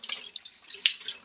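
Tap water splashes and drips into a sink while dishes are washed in a home kitchen, a close, steady patter of small irregular splashes with no talking.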